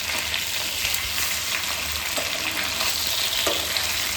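Hilsa fish frying in mustard oil in a pan, a dense continuous sizzle and crackle heard up close, loud and even with faint stirring, no talk.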